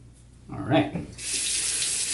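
A bathroom tap is turned on and runs steadily into a sink to rinse a razor between shaving passes, with a short knock and splash before the flow settles into a constant close hiss.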